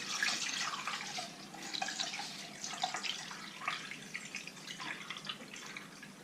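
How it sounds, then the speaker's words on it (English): Vegetable stock poured through a kitchen sieve into a container, a steady, soft splashing trickle of liquid that runs unbroken for several seconds, close by and fairly quiet, with no talking. "I'm gonna pour the stock through that, and it'll catch any stray vegetables coming in there."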